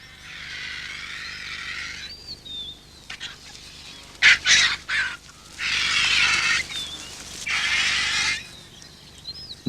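Vultures are chased by jackal pups at a carcass, with loud, harsh hissing squawks and wing flaps in bursts, a sharp scuffling flurry in the middle, and a steady outdoor hum underneath.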